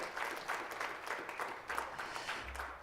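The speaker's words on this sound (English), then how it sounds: "Please give another big applause to Dr." Audience applause at a Seoul forum award ceremony, a quiet, steady patter of many hands clapping at a distance, continuous through the moment with no voices on top.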